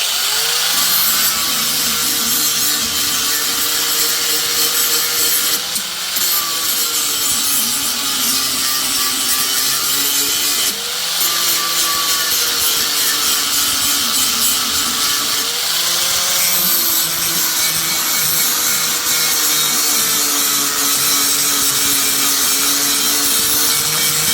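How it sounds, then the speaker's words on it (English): Flap disc on an angle grinder dressing the back edge of a chipper shredder blade, a loud continuous whining grind close by, with brief dips and restarts as the disc is repositioned. "we'll do the back side of that blade again with the flapper disc"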